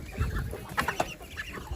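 Chickens on a farm cluck in short, scattered bursts as they are let out of their pen, the calls close and fairly loud over a low background rumble.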